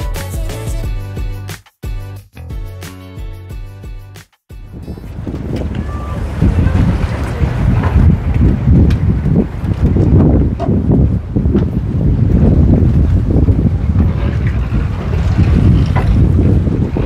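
Boat engine drone on the Mekong River in Vietnam, with strong wind buffeting the microphone, loud and steady after a few seconds of choppy, interrupted sound at the start.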